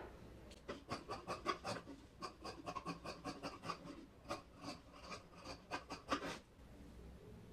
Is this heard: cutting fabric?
yes